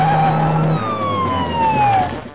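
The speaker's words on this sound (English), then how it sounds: "I swear the siren covered up some dialogue there" A police siren in the PC video game Normality wails loudly and continuously, its pitch sliding steadily downward, over a low engine-like hum and background game sounds.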